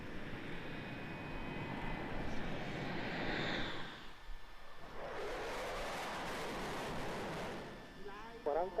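A fixed-wing aircraft takes off at an airshow, its engine a loud, continuous roar that swells, dips briefly and then surges again as it climbs, heard close and dominating the scene.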